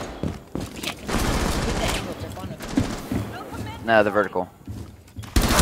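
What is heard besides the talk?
gunfire from a gun in a video game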